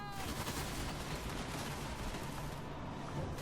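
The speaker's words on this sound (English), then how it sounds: "Let's see their first volley against the old zombies." A missile unit in Total War: Warhammer fires a volley, a dense continuous crackle of many shots blending into a loud, rough roar with no clear gaps.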